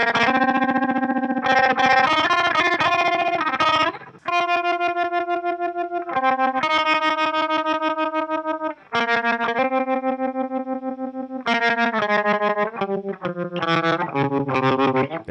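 Electric guitar played through an Electro-Harmonix Nano Pulsar tremolo pedal set to a fast rate, sustained distorted chords and notes chopped into rapid pulsing throbs, loud and alone with no talking.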